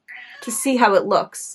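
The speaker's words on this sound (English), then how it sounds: "I'm so sorry about the cat meows." A house cat meows in short rising calls behind someone speaking close to the mic.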